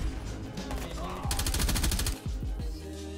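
Rapid bursts of LC10 submachine gun fire in a Call of Duty Cold War match crackle in a dense automatic stream for about a second, followed by a few separate shots amid game noise and faint talk.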